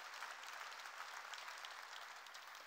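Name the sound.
congregation applause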